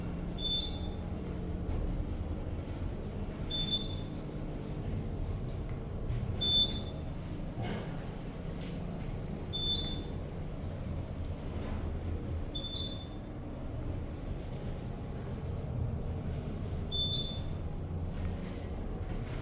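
An Otis Gen3 elevator, a 2022 installation with a basic stainless steel cab in a parking garage in Ithaca, NY, runs steadily downward, a continuous low mechanical rumble broken by faint periodic high chimes or beeps as it passes floors.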